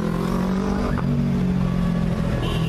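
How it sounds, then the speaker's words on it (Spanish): Steady, close street traffic rumbles near La Tiendona market in San Salvador, with engines idling and revving in a continuous low drone and no voices. "Vean, este es el tráfico que se hace acá."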